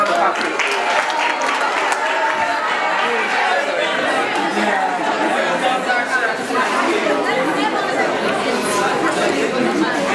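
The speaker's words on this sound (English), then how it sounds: "Give him a round of applause." Secondary school students in a classroom quiz session clap and chatter together, a dense, steady wash of applause and voices lasting the whole stretch, close and loud.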